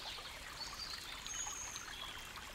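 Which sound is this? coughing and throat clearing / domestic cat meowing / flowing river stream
flowing river stream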